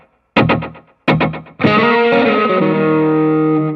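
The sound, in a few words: guitar with tape echo slapback effect on Spark amp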